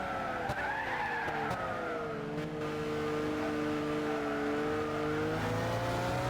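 Racing car in Gran Turismo 6 braking hard, its tires skidding and squealing in a steady howl for several seconds as the engine note drops, loud and close with no talk.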